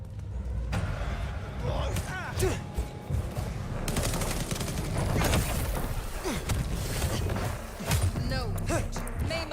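Gunfire in the vampire video game Bloodlines 2: repeated bursts of shots and impacts over a dense, busy game mix, with a person's voice talking over the action.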